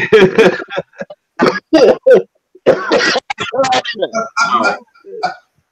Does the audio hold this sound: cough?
yes